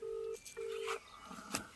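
A telephone being dialed gives two steady keypad tones in a row, followed by faint clicks and muffled handling noise and a brief sharp tap, quiet overall.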